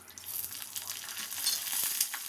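Mustard seeds crackle and splutter in hot oil, a dense close sizzle with quick irregular pops building slightly over a couple of seconds.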